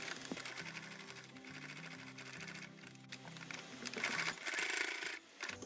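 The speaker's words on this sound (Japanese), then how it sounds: "空いてる方を縫ってその後こちら側にも同じようにステッチを入れます。" A sewing machine stitches seams on a fabric mini shoulder bag, its needle running in a steady rapid mechanical rhythm close up, with a short pause and a slightly louder burst toward the end, no voices.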